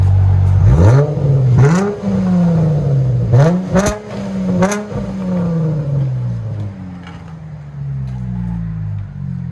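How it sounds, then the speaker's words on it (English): A 2016 Dodge Challenger with a 3.6L V6 and Flowmaster Flow FX exhaust revs loudly and close up, rising through several sharp throttle blips before settling back into a deep, steady idle. "Yeah, that's deep."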